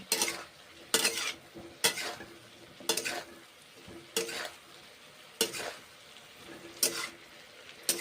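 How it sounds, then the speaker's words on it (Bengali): Vegetables including green banana, papaya, cauliflower and bitter gourd stirred and sautéed in a pan after frying, with repeated scraping strokes over a soft continuous sizzle, close and moderately loud. "ভেজে নেওয়ার পরে এখন কষে নিচ্ছি কষে নিচ্ছি নেড়ে চেড়ে কুক করছি"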